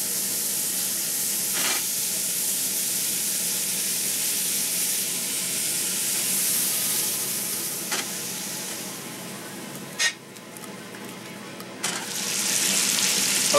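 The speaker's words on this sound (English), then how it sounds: "let's cook some meatballs." Meatballs fry in a cast iron pan with a steady, close sizzle and crackle throughout, broken by a few sharp spatters and clinks of stirring near the end; no talking.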